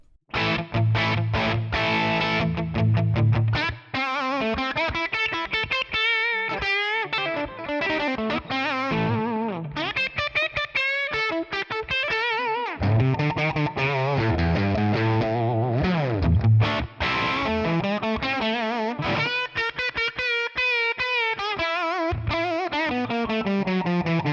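Electric guitar played through a Tonex One amp model from the AMP Kit IV character amp collection with reverb added, a continuous run of chords and single notes with a rock tone and modest gain, loud and close without talk.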